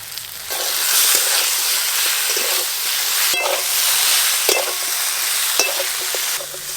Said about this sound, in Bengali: সব সবজি খুব ভালো করে ভাজা হয়ে গেছে, এবার পোস্ত বাটা দিয়ে দেব।